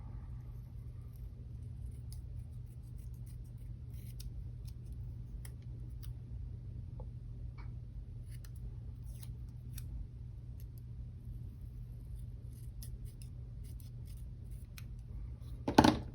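Scissors trim a planner page with soft, intermittent snipping and paper rustle, faint and close over a low steady background hum, ending in a brief louder handling clatter.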